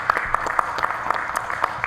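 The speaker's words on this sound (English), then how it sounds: "Can you please help me give a round of applause for Michael?" Audience applause for a guest speaker at a university event: sustained clapping from a crowd, with individual sharp claps standing out in a steady rhythm.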